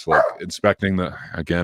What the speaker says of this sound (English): my neighbor's dog is barking and that's making him bark